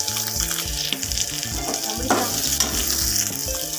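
Five chopped shallots fry in hot oil in a pan for a Kerala-style cheera thoran, a close, loud crackling sizzle with stirring clatter throughout.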